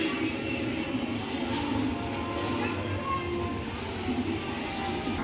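A train running past outdoors near a Sai Baba temple and children's park, a continuous low rumble with steady rolling wheel noise, fairly close and sustained throughout, with no clear speech.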